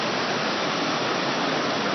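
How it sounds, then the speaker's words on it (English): A waterfall roars in a steady, dense broadband rush on a snowy outing, loud and close, unbroken for the whole stretch with no voices over it. "waterfall"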